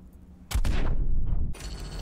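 Single loud gunshot in the video game Cyberpunk, a sharp close blast followed by a second burst of impact noise a moment later.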